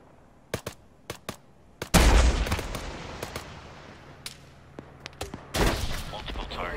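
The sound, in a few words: gunfire in a video game military operation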